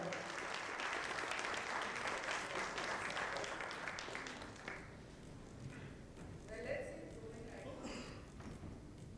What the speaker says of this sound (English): Can we have a huge round of applause for Mr. Sanoop?